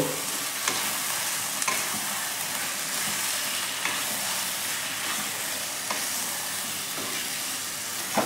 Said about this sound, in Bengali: দিয়ে এটাও মাংসের সাথে মিশিয়ে নেব